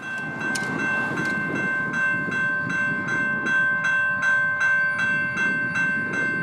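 A CSX freight train passes on the S-Line, its cars rolling by close and loud with a steady rhythmic clatter over rail joints and a sustained high tonal squeal, no one speaking.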